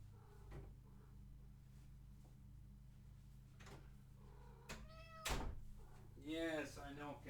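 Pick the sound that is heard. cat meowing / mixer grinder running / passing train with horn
cat meowing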